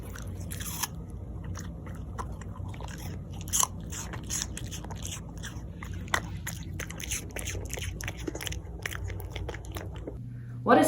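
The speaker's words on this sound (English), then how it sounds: "What a satisfying crunch." A dog chews with crisp crunches and bites, close and intimate in an ASMR-style recording, with irregular crackly bursts over a quiet background.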